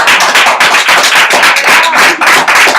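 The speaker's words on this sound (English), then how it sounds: "can we give her a round of applause?" Loud, close applause from a small gathering at a salon event, sharp individual claps in an uneven, lively rhythm that sound sparse and near, with no voices over them.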